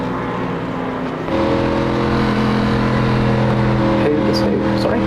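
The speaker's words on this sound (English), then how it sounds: "just on the limiter there, just revving the bejesus out of the motor" An ANZCAR Cup race car engine at Phoenix hums steadily, then jumps to a higher sustained drone and holds there on the rev limiter at a buzzing pitch, fairly close.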